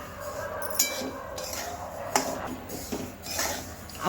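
Dry sesame seeds rattle and scrape in a metal kadhai as they roast, with occasional clinks of a spatula against the side, fairly close and steady.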